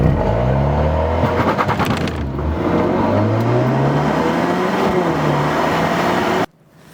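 A 280-horsepower 2-liter Alfa Romeo Giulia Q4 Veloce accelerates hard, its engine note climbing through the gears from close by, then cuts off abruptly near the end.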